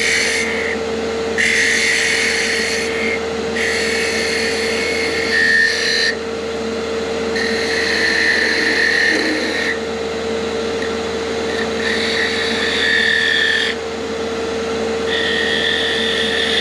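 A detail gouge cuts wood on a lathe while turning a Christmas sphere ornament, with repeated cutting passes of a few seconds each over a steady motor hum, close and loud.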